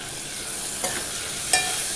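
Kadhi with turmeric being stirred in a pan: a steady wet, hissy swirl with two sharp spoon knocks against the pan's side, close and moderately quiet, no voices.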